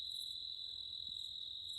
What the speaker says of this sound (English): So these are your classic annual dog days cicadas.